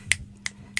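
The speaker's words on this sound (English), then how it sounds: "It's just a snap." Three crisp finger snaps, spaced evenly about a third of a second apart, standing in for applause at a poetry reading; sharp, close and fairly faint.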